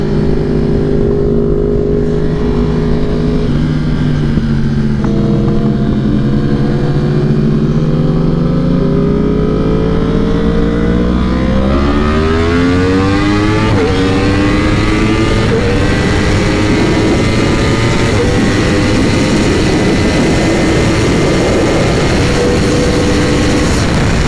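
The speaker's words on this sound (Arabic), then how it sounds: "جامد على موتوسيكل موتوره مكسور وملحوم ومحلول ومعمول" A motorcycle with a broken, welded-together engine is ridden hard, its loud engine revving and climbing through repeated rising pitch sweeps as it accelerates, harsh and close throughout, with no talking.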